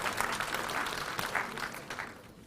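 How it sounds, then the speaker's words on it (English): A round of applause at a televised state-level school quiz show honors the Borno State team, a busy wash of many hands clapping at moderate level that gradually thins toward the end. "Round of applause to Borno State."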